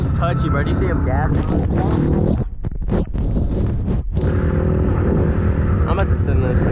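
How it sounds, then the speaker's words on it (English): An off-road truck with dual exhaust revs hard while mudding, loud and close engine roar rising and dipping with brief throttle cuts, accompanied by wind buffeting and people talking over it. "Hey, he's got dual exhaust. Dude, that thing's touchy, bro. Do you see him gas?"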